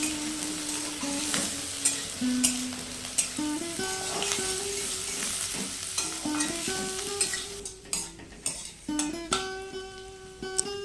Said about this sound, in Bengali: পেঁয়াজগুলো দিয়ে আরও 1 মিনিট মতো ভেজে নেব।